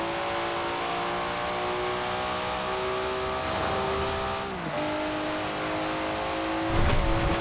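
Stock Nissan Skyline R34 accelerating through third gear in Forza Horizon 4, the engine note climbing steadily in pitch as it pulls, a brief dip at a shift, then a louder rush at the close.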